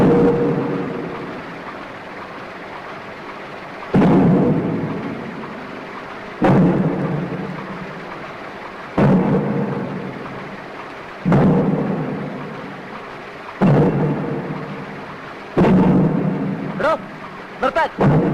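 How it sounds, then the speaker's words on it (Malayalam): Heavy pile driving at a construction site beside a residential colony: deep, booming thuds strike about every two and a half seconds, each followed by a rumbling decay, with a quicker cluster of blows near the end. "ഇവിടെ ഇങ്ങനെ ഫയലടിക്കാൻ പറ്റില്ല"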